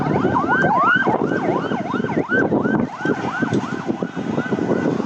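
An ambulance siren wails continuously in rapid, repeating up-and-down sweeps, loud and close, over a low rumble of traffic, at a plane crash site in a residential area of Karachi.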